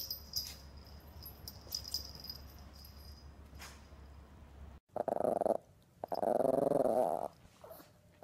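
A dog growls and grumbles up close in two bursts, low rumbling vocal tones, preceded by a quieter stretch of faint background noise.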